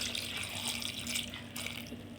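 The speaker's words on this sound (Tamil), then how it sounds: "ஒரு சொம்பு தண்ணி ஊற்றிக்கலாம்." Water from a small vessel pours steadily into a cooking pot holding ridge gourd, turmeric, asafoetida and tamarind, a continuous close splashing stream at low volume with no talk.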